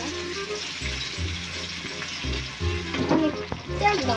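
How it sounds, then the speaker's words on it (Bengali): Onions frying in a pan at an outdoor New Year picnic give a steady close sizzle, with a louder crackling burst near the end, over a soft tonal background and no speech. "পেঁয়াজ ভাজা হয়ে গেছে।"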